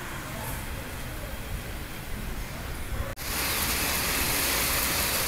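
Steady hiss of evening rain falling in Santos, Brazil, becoming louder and denser after a brief dip partway through, with no voices.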